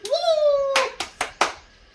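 A voice rings out, then several sharp hand claps land one after another in celebration of reaching one million subscribers, close and fairly loud.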